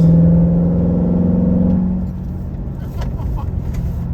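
A Chevrolet C7 Corvette Z51 engine drones loudly at high RPM while cruising on a mountain parkway, the steady revving tone dropping away midway as the car shifts and settles to a lower rumble.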